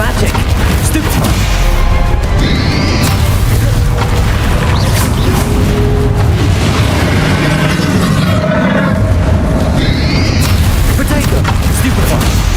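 A Stupefy spell cast during combat in Hogwarts Legacy, heard as heavy booming magical impacts and crashes amid a loud, dense game soundscape, with a voice speaking under the noise.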